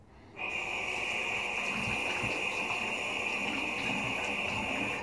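Water runs steadily from a tap into a sink before a shave, a constant hissing gush starting abruptly and continuing without a break.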